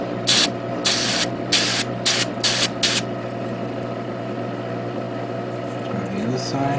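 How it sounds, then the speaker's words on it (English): Aerosol spray can misting paint onto model kit parts for a Gundam diorama, six short hissing bursts in quick succession close by, followed by a quieter background hum. "Cover the areas I may end up accidentally spraying."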